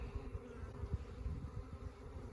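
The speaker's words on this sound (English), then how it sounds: "Calming the bees down." Honey bees buzz in an open hive during an installation, a dense, steady low drone with fluttering wingbeats close by, no voices.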